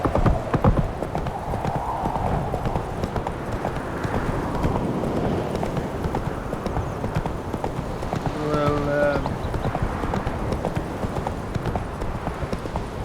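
Hooves of the horse Roach in The Witcher 3 clip-clop in a steady galloping rhythm throughout, with a brief whinny-like call partway through over game ambience.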